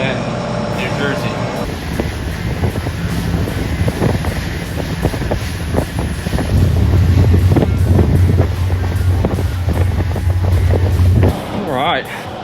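A 2000 Pursuit 3400 Sport Fish diesel boat trolls slowly on open water, its low steady engine drone running under heavy wind buffeting, with speech over parts of it.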